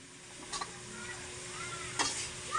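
Chayote sautéing in a pan for a home dinner, a steady soft sizzle with a couple of sharper clinks and scrapes of a stirring utensil, fairly quiet and close, no talking.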